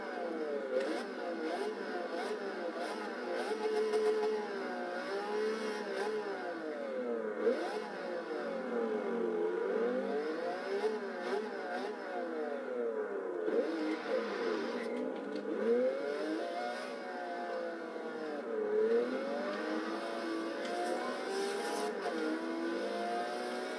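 A Maserati MC12 in Forza Horizon 2 howls through repeated revving and gear changes, its engine note climbing and falling continuously with occasional tire squeal, loud and close with no voices.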